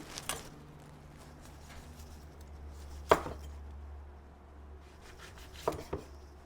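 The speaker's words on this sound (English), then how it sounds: "I usually cut mine in quarters." A knife cuts Brussels sprouts into quarters on a board, giving a few sparse, distinct chops against a quiet background with a low steady hum and no talk.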